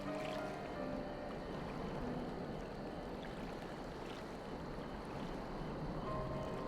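Calm ocean waves lapping against a boat in Final Fantasy XIV, a soft, steady wash of water with faint creaks, quiet and continuous throughout.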